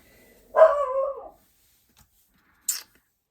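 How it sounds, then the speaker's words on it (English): A dog in an art studio lets out a single drawn-out, whining bark close by, followed by quiet and a brief faint click, with no talking. "So the studio dog has something to say about that."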